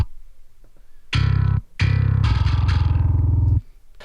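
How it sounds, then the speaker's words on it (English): Bass guitar through a bright, heavily driven distortion effect for a thall-style mix, played as two loud sustained notes, a short one then a longer ringing one with a gritty buzzing edge, alone with no talk. "we need a bright distortion"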